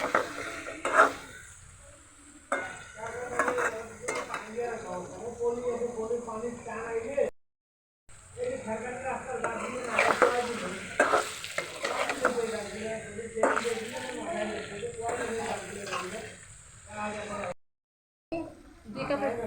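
Raw mango pickle being stirred as it cooks in a pot, a steady sizzling hiss with scraping strokes of a spoon, while someone talks over it throughout and the sound briefly cuts out twice.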